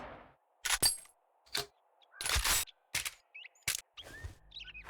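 A pipe shotgun in 7 Days To Die fires five sharp, loud blasts at a slow, even pace, each with a short ringing tail, separated by near silence.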